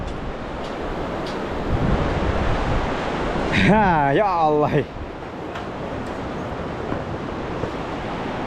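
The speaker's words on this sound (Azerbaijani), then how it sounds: "Ay ama burada bir dənə külək var." Wind blows steadily outdoors in the remote mountain village of Zərnava in Azerbaijan's İsmayıllı district, a constant broadband roar filling the whole clip, while a voice briefly exclaims midway.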